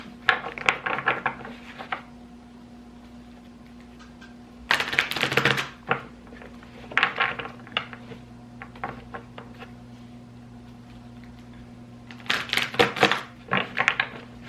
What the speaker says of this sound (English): They're so tough to shuffle.